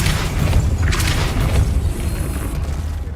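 Depulso spell cast in a Harry Potter video game, a dull booming burst that swells and rumbles low for several seconds, with a faint whoosh of magic above it.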